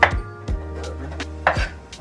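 Knife chopping rolled-up fresh herbs for a garnish on a board while noodles cook in the kitchen, three sharp close chops spaced across the moment with faint kitchen clatter between.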